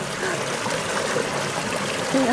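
Water splashes and trickles continuously in a park, with bubbling, burbling texture running steadily and close throughout, and faint voices underneath.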